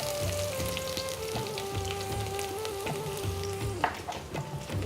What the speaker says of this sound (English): So in go our mustard seeds. Urad dal, our ginger and green chilies,